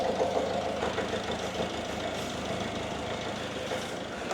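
A Citroën Berlingo engine idles steadily with a low, even rumble and a faint rhythmic knock, with no talking.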